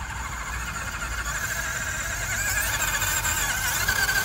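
Tires on an RC truck spin on a steep muddy bank, making a high, squealing electric whine that rises steadily over a low rumble of wheelspin.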